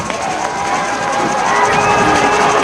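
Crowd cheering and shouting steadily at a 2003 high school state championship football game, Kingfisher vs Sulphur, a loud continuous roar of many voices filling the stadium.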